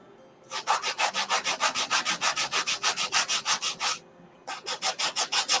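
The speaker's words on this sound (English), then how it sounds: "I'm just sanding the edges while I'm at it." Steady rhythmic sanding along the edges of small wooden craft tags, a quick run of about twenty even back-and-forth scrapes, a brief pause, then the strokes resume, close and clear with no talking.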